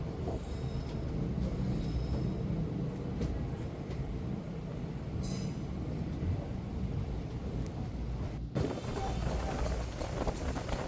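A passenger train pulls out of Sivakasi railway station in Tamil Nadu, heard as a steady loud rumble of wheels and carriages with rattling and a brief change in the noise near the end.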